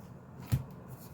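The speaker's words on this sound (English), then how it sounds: "Let me shuffle this up here." A single brief riffle of a tarot deck being shuffled by hand, quiet and close, alone against low room tone.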